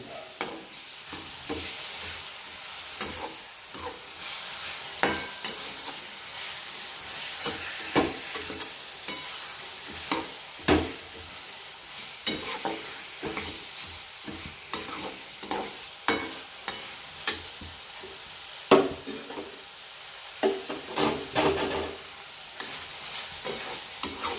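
Tomatoes simmering and frying in a pan for a tomato, egg and onion chutney, a constant soft sizzle under frequent stirring scrapes and taps.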